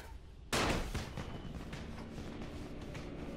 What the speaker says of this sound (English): Oh, there's firecrackers.